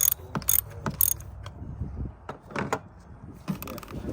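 A ratchet wrench loosens the 10 mm battery terminal nut on a 2020-2023 Nissan Sentra: quick bursts of close metallic clicking come in short rhythmic strokes with small pauses between them.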